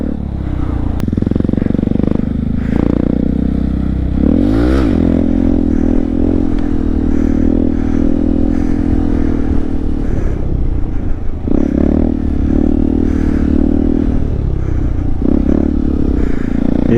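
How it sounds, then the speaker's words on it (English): Honda Grom motorcycle doing coaster wheelies, its small engine loud and close, revving and dropping as it rolls, with a scraping clatter partway through and further throttle surges later. "Wheelie coaster, coasted for a minute, was able to get, you know, engage the clutch again, pick it back up, ride it, and then coast it again."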